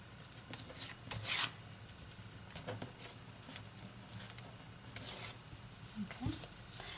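A coated layer being peeled off a cereal box for a DIY notebook, faint dry rubbing and tearing scrapes with a few louder rips at about one and five seconds.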